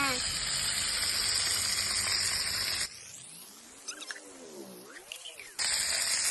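Chicken ghee rice mixture sautéing in a pan: a steady hiss of sizzling, then a quieter stretch with a faint voice speaking over low stirring noise, before the loud sizzle returns at the end.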